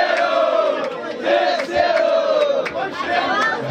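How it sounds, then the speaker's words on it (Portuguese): Crowd at a freestyle rap battle cheering and shouting loudly and continuously, a dense roar of voices with rising yells throughout. "Mão pro alto, barulho Pelé."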